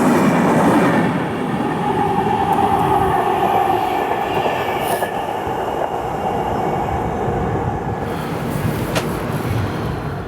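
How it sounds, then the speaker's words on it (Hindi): Indian Railways Ahmedabad–Darbhanga Clone Special train rumbling steadily on the tracks, a continuous loud rolling roar with faint wheel clatter and occasional higher squeal, no voices. "ये है अहमदाबाद दरभंगा क्लोन स्पेशल"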